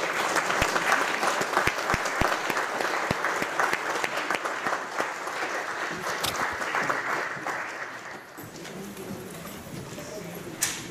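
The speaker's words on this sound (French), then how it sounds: "On peut applaudir, on a un nouveau baptisé." A church congregation at Mass applauds a newly baptized person, a fairly distant, reverberant patter of clapping with a few sharp individual claps standing out, tapering off toward the end as quieter room noise takes over.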